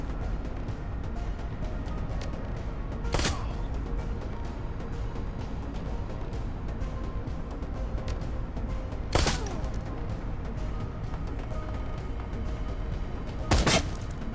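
Gunfire in the turn-based game Shadowrun: Hong Kong, three sharp shots spaced several seconds apart over a steady bed of game music and ambience.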